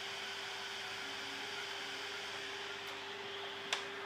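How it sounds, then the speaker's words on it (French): Cooling fan of a salvaged desktop PC running, a steady whirring hum with airy hiss that holds level throughout, fairly quiet, with a single sharp click near the end. "vous entendez le ventilo là? Regardez, le PC va décoller."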